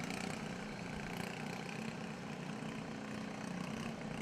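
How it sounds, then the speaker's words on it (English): A ride-on lawnmower engine burning race fuel at a demolition derby, a continuous steady drone heard from a distance with no break in its pitch. "that's a little Poodle Ellis race fuel burning up under the hood of that lawnmower"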